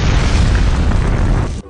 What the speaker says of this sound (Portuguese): Que o mundo foi criado de uma explosão.